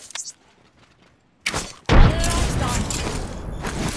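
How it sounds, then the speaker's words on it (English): A grenade blast in Apex Legends on PS4 Pro lands as a sudden loud boom after a brief quiet, followed by a rumbling, crackling roar that keeps going to the end. "Grenade flung."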